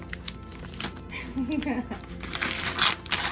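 Plastic packaging of a reborn baby doll box crinkles and rustles in bursts while a person talks over it nearby.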